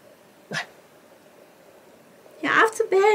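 A dog barks: one short sharp bark, a quiet pause, then a louder cluster of barks and yips close by.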